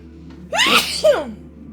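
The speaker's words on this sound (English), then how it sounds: "I want to sneeze here." A single close, loud sneeze with a sharp intake and explosive release over a low steady hum.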